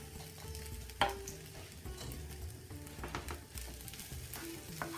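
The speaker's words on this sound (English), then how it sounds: "So just stir your rice in." Drained rice hisses and sizzles as it is stirred in a very hot pan over full heat for Panang stir-fried chicken, a quiet, steady frying crackle broken by occasional scrapes and clinks of the stirring utensil.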